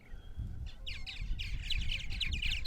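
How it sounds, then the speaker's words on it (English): Purple martins on Long Island, New York, call in rapid chirping and gurgling bursts, several birds overlapping near and moderately loud over a low rumbling background. "They're pretty tame birds."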